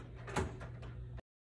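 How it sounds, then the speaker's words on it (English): A door opens with a single short, close thunk and scrape, lasting about a second before everything cuts to silence. "Bro, open the door, bro."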